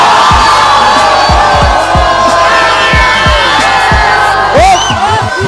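Crowd cheering and shouting on Ilang-Ilang Street in Gatchalian Subdivision, Las Piñas City, loud and close, with rhythmic chanting beats and rising whoops near the end.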